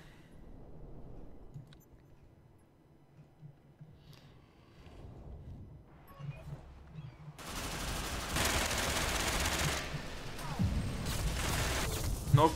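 Automatic gunfire from an A12 gun in the shooter game Ghost Recon Phantoms, a dense rapid burst that comes in suddenly and stays loud after a stretch of quieter in-game ambience.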